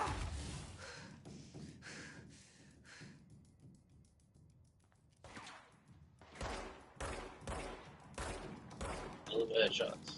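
AK rifle gunfire comes from a shooter video game, with bursts of sharp shots and thuds between quieter gaps, growing louder and denser toward the end.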